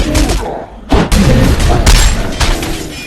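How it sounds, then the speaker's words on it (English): Explosions in the VR game Battle Talent as magic canes detonate, loud booming blasts with a sharp burst about a third of the way in, followed by further crackling thumps in quick succession. "it's still an explosion"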